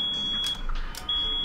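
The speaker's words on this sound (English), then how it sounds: "my fire alarm's going off" A home smoke alarm sounds a high, piercing electronic tone that cuts out briefly and returns, heard indoors behind quiet game background noise without speech.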